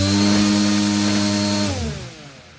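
An oversized 11.5-inch three-bladed 3D printed folding propeller on a small RC motor runs with a loud, buzzing tonal whine, then spins down over the final second as the pitch falls and fades.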